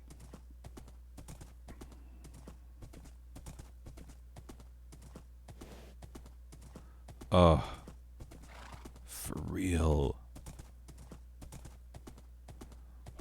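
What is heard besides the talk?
horse hooves clip-clopping in a video game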